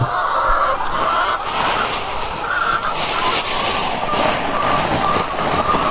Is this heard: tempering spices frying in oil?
no